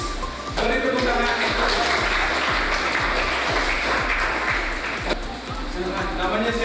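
Pupils in a classroom clap during a lesson, a steady, fairly loud run of applause with a regular beat underneath, mixed with some background chatter from the room.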